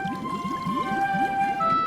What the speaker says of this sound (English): giant whales